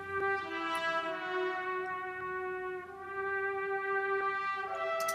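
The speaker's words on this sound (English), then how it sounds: "these trumpets are from Spitfire BML" Spitfire BML solo trumpet sample holding a sustained note with wide, expressive vibrato, bright and steady for about five seconds with a slight dip midway, alone and close.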